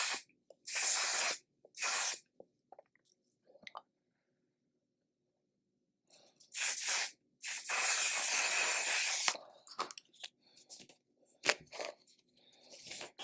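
Bursts of makeup setting spray hiss out in short puffs, two quick sprays, a pause, then a longer run of several sprays close up, with small handling clicks between them and no talking.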